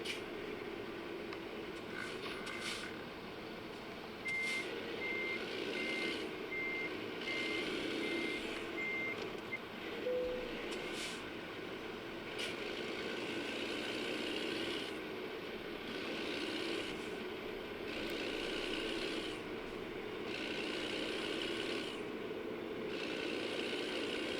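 In a truck driving video game, a truck's reversing alarm beeps in a steady repeating rhythm over a constant low engine idle, heard alone at moderate level throughout.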